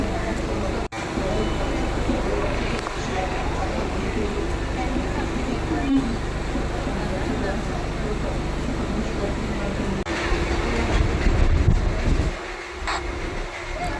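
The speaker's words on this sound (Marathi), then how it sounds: "ट्रेन निघालेली आहे चेंबूरला जायला" A Mumbai local train bound for Chembur rumbles steadily as it departs the station, with continuous rail noise, swelling briefly louder near the end before easing off.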